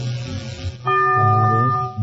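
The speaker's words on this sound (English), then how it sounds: "The bell is tolled." A game show bell tolls once to mark a wrong answer, a sustained ringing tone with steady overtones that starts abruptly and hangs for over a second over low background murmur.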